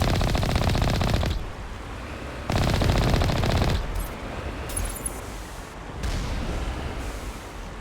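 Mass Effect combat gunfire comes in loud, dense automatic bursts, two long volleys broken by shorter shots and crackle, close and dominant with no talk.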